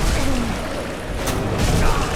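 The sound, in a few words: Gravelord Nito summoning sword through ground, Dark Souls video game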